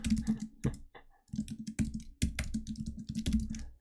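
Computer keyboard typing in quiet, uneven runs of light clicks, close and alone, with short pauses between bursts.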